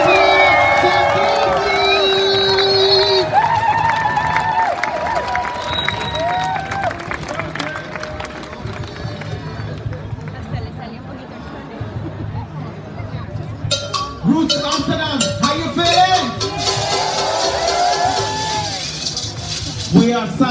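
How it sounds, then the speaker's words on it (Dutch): Festival crowd at an Amsterdam roots festival cheers and claps loudly, a dense sustained roar with shouts that dips midway, then swells again as a new burst of cheering breaks out near the end. "En dan mogen jullie juichen allemaal."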